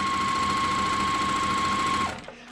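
A sewing machine runs steadily for about two seconds, stitching a quarter-inch seam in quilt strip pieces at a short stitch length, then stops, leaving quiet room tone.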